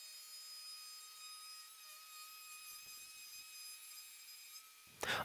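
A router cuts a sink cutout through the full thickness of a Slim Line worktop. A steady, high motor whine runs close and even throughout, then ends in a sudden loud burst.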